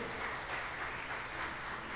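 Steady applause from a church congregation, a dense even wash of clapping lasting the whole moment with no voices on top.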